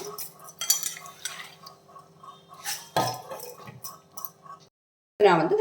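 Soaked ragi and green gram are scooped into a mixer jar in a kitchen, making close wet clinks of a spoon against the vessel, stirring scrapes and soft drips, with a brief pause before more clattering.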